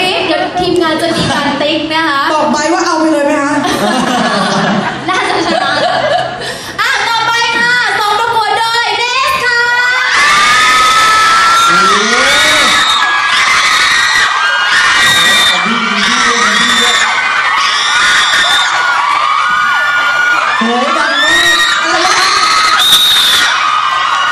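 Fans scream, cheer and whoop loudly at a fan club dance battle event in Thailand, with a dense, sustained roar of high shrieks and shouts rising sharply partway through and staying intense to the end, with voices mixed in.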